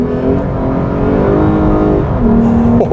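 Lexus IS 350 F Sport from 2017 in Sport S mode, its engine revving loud and close with a steady, rising harmonic drone, pitch shifting slightly near the end, heard from inside the car with no talk.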